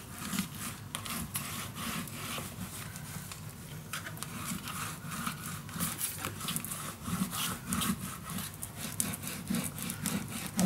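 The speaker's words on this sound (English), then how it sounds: "Rub that glue in." Steady scratchy rubbing of a hand or tool pressing glue into paper pages of a handmade mini baby album, continuous and close with small irregular strokes throughout, no talking.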